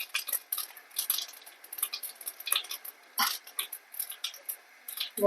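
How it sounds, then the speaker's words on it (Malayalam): Mustard seeds and green chillies go into hot oil for an egg and greens thoran, setting off quiet, irregular crackling and spitting pops in quick scattered bursts, with no voices. "എണ്ണ ചൂടായിട്ട് നമുക്ക് ഇതിലേക്ക് അര ടീസ്പൂൺ കടുക് ചേർത്തെടുക്കാം ഞാൻ രണ്ട് പച്ചമുളക് കൂടെ ഞാൻ ചേർക്കുന്നു"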